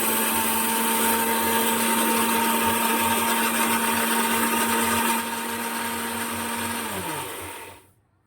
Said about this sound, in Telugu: ఇప్పుడు మిక్సీ అయితే వేసుకుంటాను.